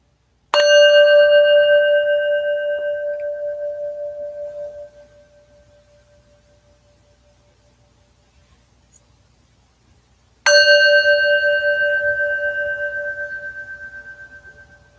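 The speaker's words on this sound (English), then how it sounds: "Allow your attention to shift towards the bell." A meditation bell rings twice, about ten seconds apart, each strike a clear bright tone with layered overtones that hangs and slowly decays into quiet, heard alone without talk.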